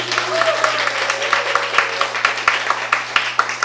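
Audience applause at a Korean talk or lecture, a steady patter of many hands clapping at moderate loudness throughout, with a faint voice briefly heard beneath it.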